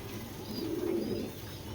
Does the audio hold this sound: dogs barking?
no